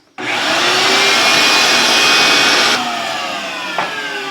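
A vacuum switches on abruptly and roars steadily, sucking coolant out of the overflow tank of a Honda GL1500 Goldwing motorcycle, its pitch shifting slightly as the liquid drains and air is drawn in.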